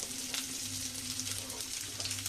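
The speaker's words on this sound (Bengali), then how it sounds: "এটা হালকা করে একটু ভেজে নেব" Onion fries in oil in a pan, giving a steady hissing sizzle throughout a brief, quiet stretch with no talk.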